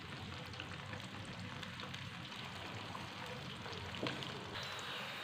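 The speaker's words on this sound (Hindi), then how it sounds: "साथ में 2 अदद प्याज डाल देंगे कटे हुए। इनको अच्छी तरह ब्राउन कर लेंगे।" Two chopped onions brown in hot oil in a pan, giving an even, continuous sizzle at close range with occasional light pops.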